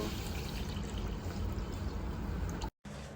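Prepared carrot water is poured into a halwa mixture, giving a continuous close pouring and splashing sound that stops abruptly near the end before a brief resumption, with no talking.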